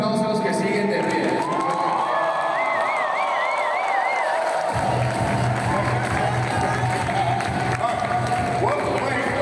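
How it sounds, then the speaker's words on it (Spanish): An audience at a mentoring seminar breaks into loud applause and cheering, with whoops, shouts and music playing underneath, the crowd noise staying full and continuous the whole time. "give yourselves a round of applause"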